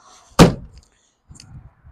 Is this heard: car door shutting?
yes